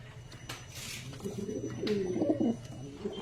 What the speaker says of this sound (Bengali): আজ লফটে একটার পর একটা আমরা আন্ধা পায়রা দেখাবো, আন্ধা ফুলসিরা।